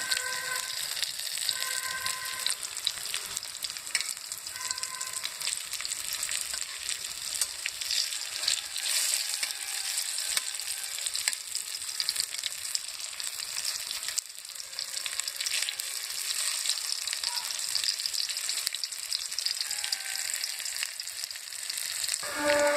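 Jackfruit-leaf fritters fry in a pan in a home kitchen and are turned over, producing a close, continuous crackling sizzle with small spitting pops and the odd scrape of a utensil.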